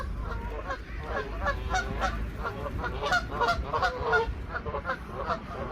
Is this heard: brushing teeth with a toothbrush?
no